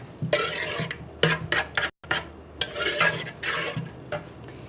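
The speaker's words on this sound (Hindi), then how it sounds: "नमक ऐड कर लिया, तो हम इसको अच्छे से मिक्स कर लेंगे" A spoon stirs salt into a dahi bhalla batter in a bowl, giving close, repeated scraping and clinking strokes in bursts, with one brief pause near the middle.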